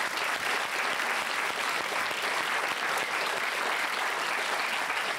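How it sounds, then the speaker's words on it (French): A television studio audience applauds, a dense, even wash of many hands clapping at a steady level that holds for several seconds without letting up. "On peut applaudir"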